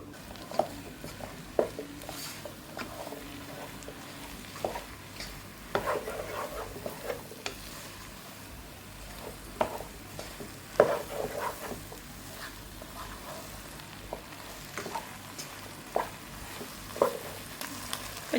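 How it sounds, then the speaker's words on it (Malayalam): Okra stirred in a pan over high flame, a soft steady sizzle of vegetables frying with scattered scraping and clinking of the spoon against the pan, close and moderately quiet throughout. "ഈ വെണ്ടയ്ക്ക ഇട്ട് കൊടുത്തതിന് ശേഷം നമുക്ക് ഇത്തിരി ഒന്ന് ഹൈ ഫ്ലെയിമിൽ വെച്ച് ഇതിനെ ഒന്ന് ഇളക്"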